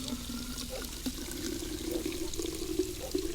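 Plants are watered in the Drug Dealer Simulator video game, a faint, steady pouring trickle of water running for a few seconds with no voices.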